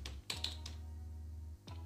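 Keys tapped on a computer keyboard while a PIN code is entered into an online form: a handful of quick, light clicks in two short bursts, fairly quiet, over a steady low hum, with no talking.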